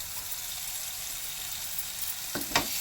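Prawns and raw mango curry sizzle steadily in a pan as a spoon stirs the mixture, a constant close frying hiss with a couple of sharper scraping clinks near the end.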